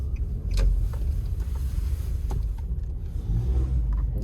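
A car's engine rumbles steadily from inside the cabin during a first driving lesson on a road, a low continuous drone with no talk over it.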